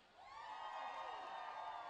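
A roller derby crowd at an Arizona Derby Dames bout cheers, whoops and claps together in a steady, dense wash of voices and applause that swells after a brief quieter start.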